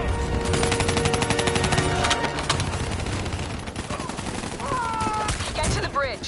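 Dense, rapid automatic gunfire rattles through a Black Ops 3 firefight, with rapid repeated shots up front and voices calling out amid the battle.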